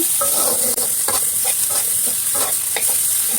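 Dried fish frying in a pan with salt and turmeric, a loud continuous sizzle broken by repeated scraping stirs close up.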